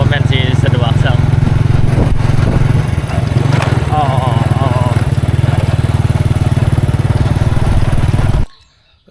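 A motorcycle rides along a road on a Lao island with a loud, steady engine drone and heavy wind rumble. A voice talks over it, and the sound cuts off sharply near the end.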